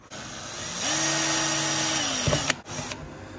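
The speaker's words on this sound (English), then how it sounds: "Reckon we might need a pre-drill." A power drill pre-drills holes for a MaxxFan Deluxe roof fan mount in a Sprinter van build, its motor whining up to a steady pitch for over a second before winding down, followed by a sharp clunk and a brief second burst.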